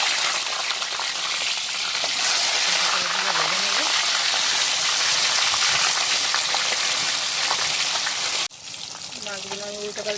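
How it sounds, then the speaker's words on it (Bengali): Live tilapia pieces frying in hot oil, a loud, steady crackling sizzle that runs throughout and drops off abruptly near the end, with someone speaking over it. "জ্যান্ত মাছ ভালো করে ভেজে নিতে হবে"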